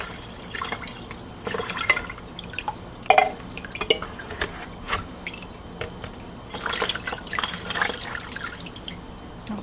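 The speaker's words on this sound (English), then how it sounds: "I'm gonna add water inside the tube too." Water is trickled and dripped into the tube of an aquarium air pump for a betta fish tank, giving close, irregular splashes and drips with small plastic knocks.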